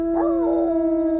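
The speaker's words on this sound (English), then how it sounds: "I always like to hear what they sound like when they howl together" Wolves in the video game WolfQuest howl together, tonal howls rising and bending over one another against a steady sustained drone, loud and close with no talking.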